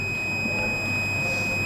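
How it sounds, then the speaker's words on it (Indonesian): A homemade flame-sensor fire detector's buzzer sounds as a thin, steady high-pitched whine held without a break, with no one talking. "dan juga buzzer akan berbunyi"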